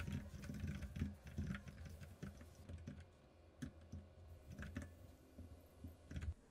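Someone types code on a computer keyboard, a quiet run of rapid, uneven keystrokes with short pauses, close and alone without speech.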